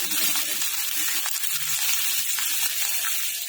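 Whole spices, asafoetida, dried red chilli, star anise, cloves, cinnamon, bay leaf, curry leaves and green chillies sizzling in hot oil for a kadhi tempering, a dense steady hiss close up with faint crackles and no talk.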